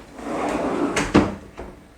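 A kitchen drawer slides along its runner and shuts with a solid knock, followed by a softer second bump, heard close with no talking.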